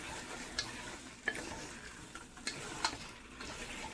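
A spoon stirring and mixing lamb chop masala in a pan cooked in desi ghee with coriander, with soft sizzling under a few scattered scraping clicks, quiet and close, no talk.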